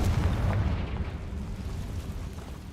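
A Confringo fire spell blasting a target in the Hogwarts Legacy video game, a loud deep boom that rumbles and fades over a few seconds, with no talking.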